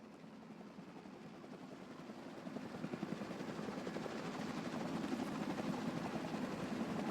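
A video game helicopter on a controller-played Icebreaker run drones steadily with a low rotor chop, swelling slightly louder midway and holding a constant roar throughout, with no voices.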